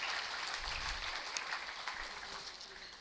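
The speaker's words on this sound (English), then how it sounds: "let's all applaud for her and welcome her" An audience applauding to welcome a guest at a panel event on the New India Dream, a steady wash of clapping from a crowd at moderate level throughout.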